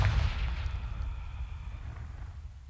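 Confringo explosive spell cast in Hogwarts Legacy, heard as a booming blast with a crackling rumble that decays slowly over a few seconds, with no talking.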